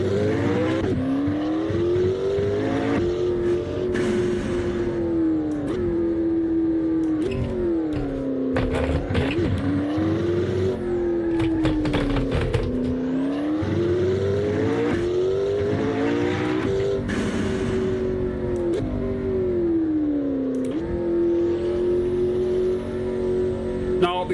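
Turbocharged race car engine in Assetto Corsa gameplay, revving up and down in repeated waves of acceleration and lift-off, loud and continuous with occasional tire squeal, no voices.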